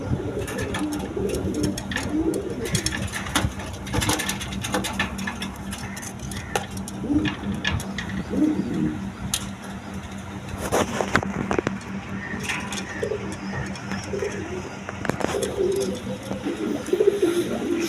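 Two male pigeons of a breed kept for heavy calling coo repeatedly in a loft, low throaty coos recurring throughout over a steady background hum, with faint clinks and rustling nearby.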